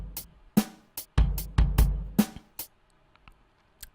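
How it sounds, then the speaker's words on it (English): A drum sample from the FPC drum instrument in FL Studio gives a sparse, irregular run of punchy kicks and sharp snare-like hits, fairly quiet, with each strike decaying quickly before the pattern thins out. "This was a sample from the FL Studio synthesizer FPC, which basically sounds like this."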